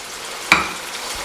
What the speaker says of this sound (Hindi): मसाले को अब अच्छी तरह भूनना है।